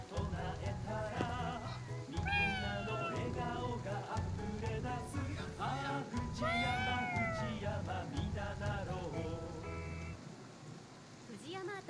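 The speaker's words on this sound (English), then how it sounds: "Is that a cat?" Cat meowing in Ghostwire Tokyo, several rising and falling meows spread across the stretch over a steady rain-like patter, with low talk and game sounds underneath.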